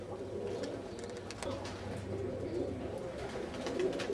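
Pigeons coo in a loft, with soft, repeated low burbling calls overlapping against a steady background murmur, fairly close and moderately quiet, with no clear talk.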